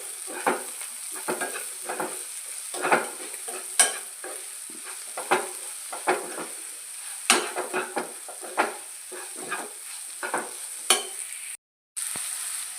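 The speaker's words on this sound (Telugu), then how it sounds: "ఇందులో సాల్ట్ పసుపు వేసుకొని సార్ కలుపుకుందాము" Plantain pieces with salt and turmeric are stirred in a frying pan, a spoon scraping and clinking in repeated irregular strokes over a steady sizzle, close and clear with no talk.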